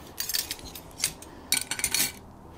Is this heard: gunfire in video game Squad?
no